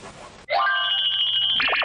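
A telephone bell rings loudly and close, a bright trilling electronic ring that starts abruptly after a brief burst of noise and continues steadily to the end.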